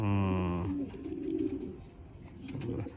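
Pigeons cooing in a loft of Madrasi and Andhra pigeons, a low throaty coo loud and close at first, then softer murmuring coos over a busy background.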